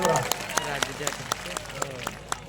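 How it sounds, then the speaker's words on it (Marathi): An audience at the Adivasi Yuva Mahasanmelan tribal youth gathering in Akkalkuwa claps in a quick, regular rhythm, the sharp claps close and moderately loud under a speaking voice. "त्याच्यासाठी पण एका टाळ्या वाजवूया आपण"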